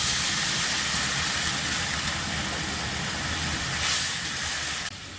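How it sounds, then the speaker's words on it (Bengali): Water poured into a pan of fried spice mix for a papaya and potato curry sets off a loud, steady hissing sizzle that lasts several seconds before abruptly dropping. "এবার আমি জল দিয়ে দিচ্ছি।"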